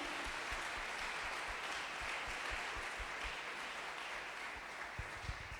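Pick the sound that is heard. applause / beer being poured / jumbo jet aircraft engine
applause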